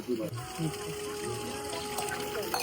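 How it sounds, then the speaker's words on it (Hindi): Steady stream of pure water flowing continuously at a temple site in Chitrakoot, Madhya Pradesh, a constant rushing wash heard close, with people talking over it throughout. "ये धारा बह रही है, लगातार ये बहती रहती है"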